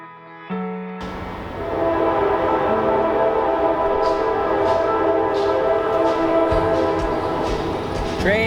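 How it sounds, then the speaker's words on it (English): A train rolls past a backyard building site, its horn blaring loud and sustained over the rumble and rattle of the passing cars, which carries on steadily after the horn fades. "Train's here."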